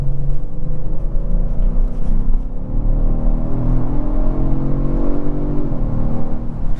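A 2023 Kia Stinger GT2 AWD with a 3.3-liter twin-turbo V6 accelerates in sport mode, its engine note rising in a smooth, loud, continuous build heard from inside the cabin, with a brief shift near the end.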